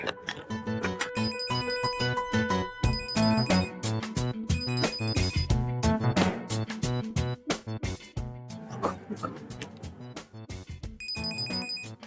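A phone ringtone plays loud and continuous, a bright repeating electronic melody with layered tones that runs throughout without pause.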